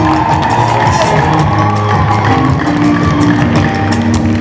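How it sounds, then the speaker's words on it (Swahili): A Pentecostal church congregation cheers, shouts and ululates for Jesus with clapping mixed in, a loud, continuous crowd din close by, with sustained high trilling voices over the noise. "Makofi na vigelegele kwa Yesu"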